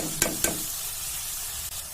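Prawns and boiled banana flower sizzle in a pan with a constant close hiss, broken by two quick scraping stirs near the start.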